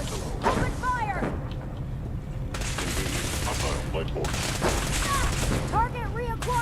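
Sustained gunfire during a synth ambush in Fallout 4, a dense fusillade of shots with whistling energy bolts and clanking mechanisms, fairly loud throughout, with voices calling out over the fight.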